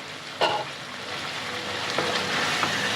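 Kadai chicken frying in a pan just after the lid comes off, a steady soft sizzle with a brief louder clatter near the start and occasional stirring scrapes, no talk.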